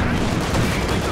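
Company of Heroes 2 battle on the Steppes map with Soviet forces: continuous dense gunfire and booming shots, with anti-tank gun fire mixed into the din, loud throughout with faint voices underneath.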